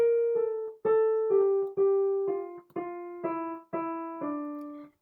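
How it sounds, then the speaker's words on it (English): A melodic instrument plays a short phrase of separate notes with appoggiaturas, several of them leaning from one pitch down onto the next, clear and close with no talking. "We've got an appoggiatura, which is also known as a leaning note,"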